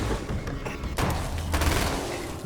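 SMG gunfire in the video game Alan Wake's American Nightmare, loud rapid bursts and booms layered with dense in-game action noise.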